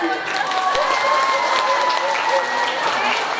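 At a school workshop, an audience of students applauds a twelfth-grade classmate, steady clapping from a crowd with some cheering and voices mixed in, fairly loud and sustained.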